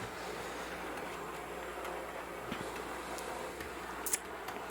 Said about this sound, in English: The model I'm running right now is that the Irish locomotive